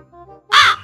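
A crow gives a single loud, harsh caw close by, preceded by a faint low background hum.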